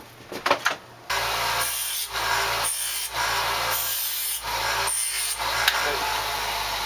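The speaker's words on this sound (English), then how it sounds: "what we're going to do now is just deburr that" Deburring a machined rail part for a Ruger P97 pistol, a steady rasping file-like scrape that runs continuously for several seconds with brief dips in rhythm, close and fairly loud after a short burst of handling noise.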